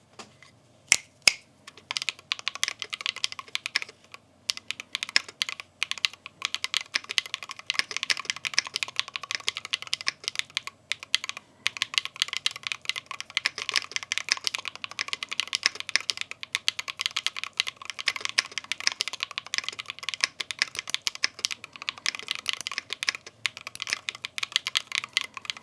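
Typing on a GT60 PRO Hall Effect gaming keyboard, a quiet, muted, continuous patter of soft key presses in a fast irregular rhythm, close and without talk, with a few sharper clacks near the start.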